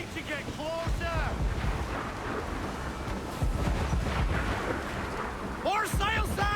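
Mortar fire from a man-of-war warship in Assassin's Creed 4 naval combat: heavy booms and rumbling blasts over wind, sea and battle noise, with shouted voices near the start and end.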